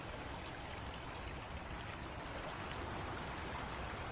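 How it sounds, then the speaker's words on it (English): A river rushes steadily in a wildlife setting, a continuous broadband wash of flowing water, close and even, with no other sounds over it. "A river blocks their path."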